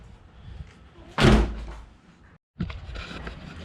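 A Nissan 350Z car door swings shut with a solid, heavy thud nearby, followed by a moment of silence and faint rustling.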